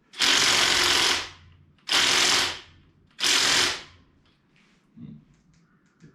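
A cordless impact wrench loosens the lug nuts on a 1997 Jeep Wrangler TJ while it sits on the ground: three loud, buzzing hammering bursts of about a second each, separated by short pauses, then quiet clicks and handling noises.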